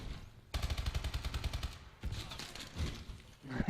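Rapid bursts of automatic gunfire in a Capture the Flag match on the map Ascend in a competitive video game, two close volleys of quick repeated shots followed by a thumping burst at the end, with a commentator talking over the action.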